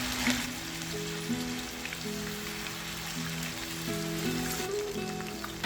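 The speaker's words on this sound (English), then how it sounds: "Heat oil in a pan for shallow frying and lay the wings in gently." A steady, crackling sizzle of chicken wings frying in shallow oil in a pan, soft and continuous with a faint tonal hum beneath.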